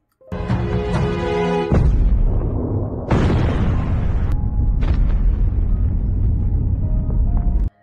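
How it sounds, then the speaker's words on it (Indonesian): A bomb explodes underground in a dramatic film scene, a loud booming blast followed by a long roaring, rumbling aftermath with debris, then a second surge of rumble before it cuts off abruptly. "bom yang sesungguhnya meledak dari bawah tanah yang membuat istri Dayong terpental jauh"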